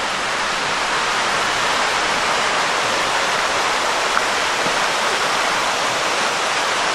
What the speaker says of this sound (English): looks like we're gonna come right up to the creek here